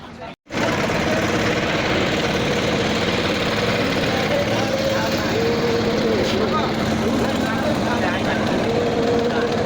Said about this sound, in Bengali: এগুলো মাছের ট্রলার।